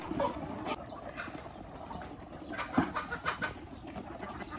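Black Australorp chickens in a breeding pen make soft, scattered clucks and low calls over a busy background of shuffling and rustling, with a few louder calls near the end.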